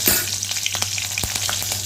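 Cumin seeds with dried red and green chillies frying in a pan while being stirred, giving a close, crackling sizzle broken by repeated short spatula scrapes over a faint steady hum.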